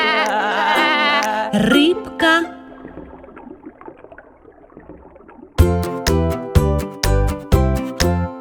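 A sheep bleats with a wavering, nasal cry a few times, followed by a quieter stretch and then a run of sharp rhythmic knocks.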